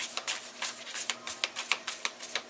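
Tarot cards are shuffled close up in quick crisp riffles and flicks, a steady run of papery taps and snaps with no talking.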